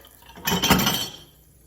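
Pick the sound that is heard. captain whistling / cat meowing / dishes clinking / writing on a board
dishes clinking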